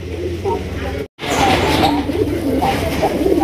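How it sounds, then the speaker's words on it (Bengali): A pair of Indian Kakji pigeons coo in soft, repeated low calls, close by, under a steady murmur of background voices with a brief dropout near the start. "ইন্ডিয়ান কাকজি সেরা এক জোড়া কবুতরের কালেকশন আপনারা দেখতেই পাচ্ছেন"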